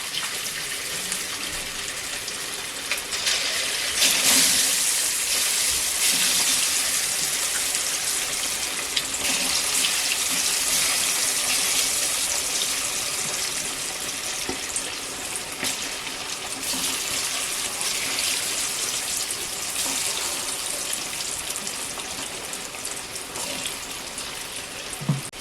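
Chicken pieces for chicken chilli fry in hot oil, kebab-style, giving a steady, dense hiss with crackle that holds evenly throughout and swells briefly near the start, with no talking.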